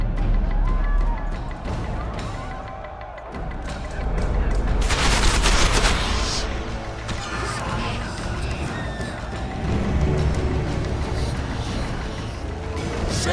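Gunfire during a battle in The Witcher 2, with sharp shots cracking over a dense, noisy battle din and a loud burst in the middle, while voices talk and shout throughout.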